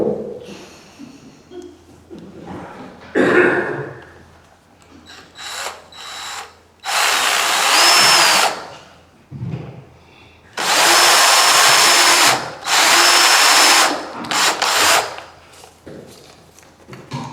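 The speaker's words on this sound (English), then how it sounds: "This is that 7mm square drill." A power drill with a 7mm square bit bores a hole in a workpiece, running in two long loud bursts of several seconds each, separated by quieter handling clatter and small knocks.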